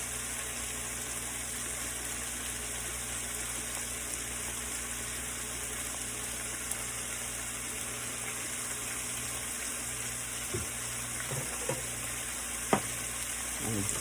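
Steak and mixed vegetables sizzle steadily in a pan after all-purpose seasoned soy sauce goes in, a constant quiet hiss with a few soft utensil clicks near the end.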